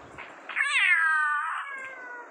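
Cat meowing in the horror video game Ice Scream: a single clear, drawn-out meow that rises and then slowly falls, heard close and alone over a quiet background.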